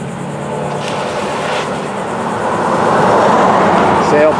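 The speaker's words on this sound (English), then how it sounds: "We see this train right now coming across Michigan Street." A passenger train led by locomotive 114 approaches at track speed across a street crossing, a broad rumbling roar that swells steadily louder, with a faint horn-like tone at the end.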